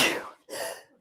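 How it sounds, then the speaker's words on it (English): A person sneezes nearby in two rapid, breathy bursts, first a sharp intake, then a louder burst that fades out quickly. "I had to sneeze."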